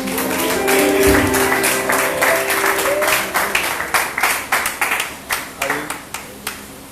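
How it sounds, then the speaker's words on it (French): A church congregation applauds at a Sunday service celebrating Mother's Day, steady dense clapping that thins into scattered, separate claps toward the end, with some voices mixed in. "On peut encore acclamer pour nous."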